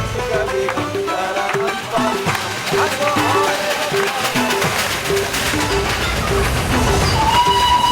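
A steam train on the Darjeeling Himalayan Railway in India rumbles steadily along the track with rhythmic clatter and a whistle rising near the end, over continuous loud ambient noise.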